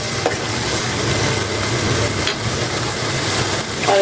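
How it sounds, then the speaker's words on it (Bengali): Prawns stirred into spice masala in a hot pan, a steady, dense sizzle and hiss with a few soft scrapes, loud and close throughout, no voices. "চিংড়ি মাছগুলো দিয়ে এখন ভালো করে মশলার সাথে একটু মিশিয়ে দেবো।"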